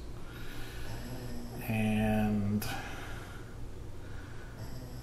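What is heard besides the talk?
pet snoring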